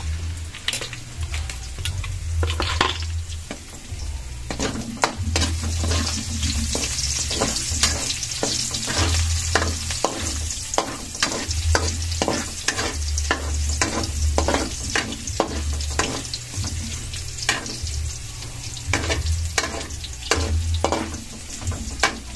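Onion and garlic sauté in a pan for an adobo of chicken liver and gizzard, a loud, steady sizzle broken by frequent sharp scrapes and clacks of a spatula stirring, close by and without talk.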